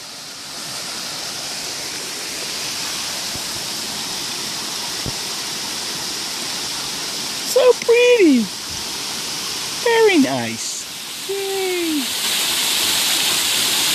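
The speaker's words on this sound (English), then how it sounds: "Finally found the waterfall." A waterfall in Asheville roars as a steady, even rush of falling water close by. A few people speak briefly over it partway through.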